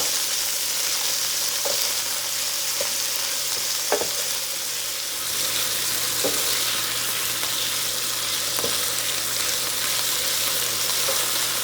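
Small chicken pieces fry steadily in a pan, making a constant loud sizzle. Occasional soft clicks come from stirring, and the sound carries on alone with no talk.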